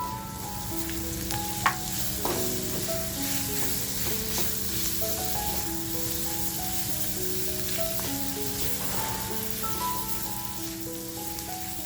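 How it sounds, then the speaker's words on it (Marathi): Chopped onion fries in hot oil with homemade masala, giving a steady, dense sizzle with occasional sharper pops and stirring clicks, close up with no voices. "आता जो कांदा कापून घेतलाय तो कांदा टाकणार आहे"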